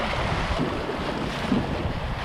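Strong wind blowing over a small sailboat out on open water, a steady loud roar with gusty buffeting against the microphone and no voices.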